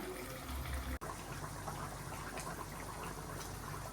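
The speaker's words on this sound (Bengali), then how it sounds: "এখন গরম জল দিয়ে দিব" Hot water poured into a pan of cooking duck meat, a steady continuous pouring gush throughout with a brief break near the start, with no talking.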